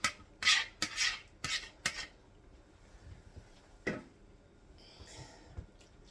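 Spatula or spoon clattering and scraping cake batter out of a mixing bowl into a greased 9 by 13 baking pan, several sharp close clinks early on, then softer scrapes with no talking.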